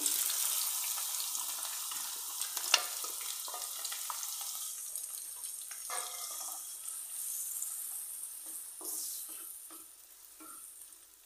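Steady hiss of finely chopped onions frying in a hot pan for prawn thokku, with occasional stirring clatter and scraping, fairly close and continuous.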